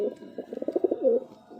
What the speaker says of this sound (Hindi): ये अलफनों का कबूतर है जी